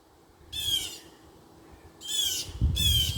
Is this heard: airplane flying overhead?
no